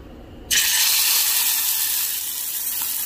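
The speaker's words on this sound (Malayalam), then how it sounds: "മീൻ ഒന്ന് ഫ്രൈ ചെയ്തെടുക്കണം." Masala-coated fish, still cold from the fridge, sizzles loudly in a pan after a sudden hiss on hitting the hot oil, then holds a steady bright crackle with no talk.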